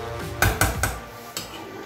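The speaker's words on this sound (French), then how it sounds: "Je recouvre ma casserole" A metal lid set onto a saucepan of cooking rice: a few quick clinks and clanks in close succession as it settles, then one softer tap, close and moderately loud.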